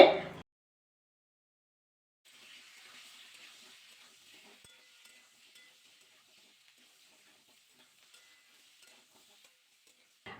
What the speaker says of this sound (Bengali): এবার কিন্তু কপিগুলো ভাজা করে নিতে হবে